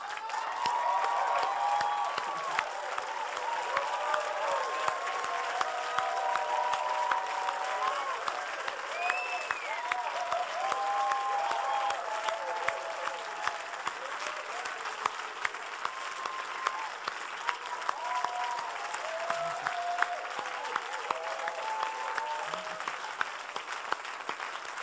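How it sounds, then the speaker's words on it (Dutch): Sustained applause from a church congregation at a Christmas Eve service in Amersfoort, dense steady clapping lasting throughout, with cheering voices and shouts mixed in. "een enorm applaus"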